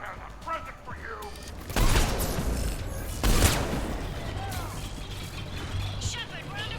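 Gunfire in a Mass Effect 3 battle, heavy bursts of shots and impacts swelling twice over a dense, noisy combat bed, with game voices talking throughout.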